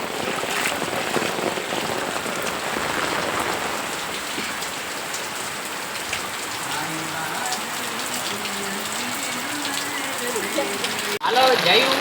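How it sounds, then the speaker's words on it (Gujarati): Heavy rain pours down steadily, a dense close hiss of drops on surfaces that stays loud throughout, while a voice talks faintly in the latter part. "તમે જોઈ શકો છો ફૂલ એકદમ વરસાદ ચાલુ રહ્યો છે."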